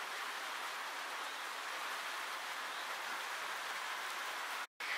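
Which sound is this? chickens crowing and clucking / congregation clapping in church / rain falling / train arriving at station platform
rain falling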